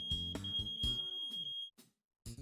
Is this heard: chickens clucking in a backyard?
no